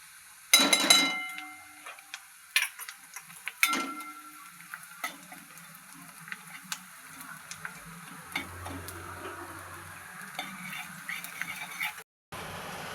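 A paste of ginger, green chili, garlic and dried red chili fries in a pan over browned onion, with a spoon clattering sharply against the pan early on, then a soft steady sizzle with light scattered stirring taps.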